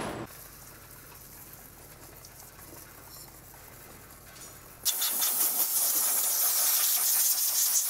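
Brake cleaner is sprayed onto the engine of a VW Polo 86C: after a quiet, low hum, a loud, bright hissing spray bursts in suddenly and continues steadily to the end.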